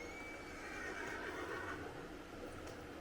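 In Red Dead Redemption 2, a horse gives a clear, drawn-out neigh and whinny up close, with faint hoof clops and ambient outdoor game sound beneath.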